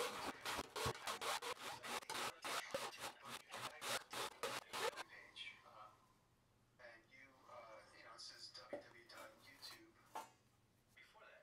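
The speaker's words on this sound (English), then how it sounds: "I filed off the teeth with a bastard file" A bastard file rasping off the old teeth of a handsaw, a fast run of close, loud, rhythmic scraping strokes that gives way to quieter scattered shop handling noises.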